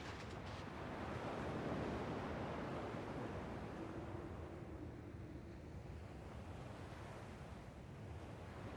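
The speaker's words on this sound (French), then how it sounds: "Le bruit des vagues est le même ici." Ocean waves from the video game Kingdom Hearts 2 wash steadily and loudly throughout, a continuous rolling surf with a breezy hiss and no voices.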